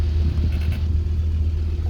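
A built Audi TT RS engine held loud on launch control without launching, a steady, dense low rumble that stays constant and close throughout with no talk over it.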